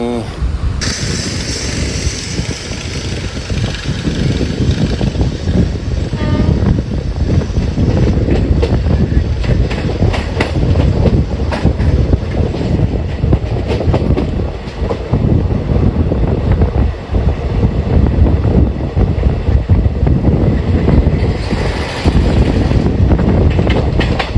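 A Payyanur–Nilambur passenger train hauled by a diesel locomotive rumbles along, recorded from inside the coach as a loud, continuous roar of wheels and wind rushing past the open window.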